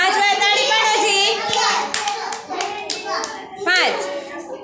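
A young child claps hands a handful of times in a classroom-style counting game, sharp close claps mixed with children's voices talking and counting aloud.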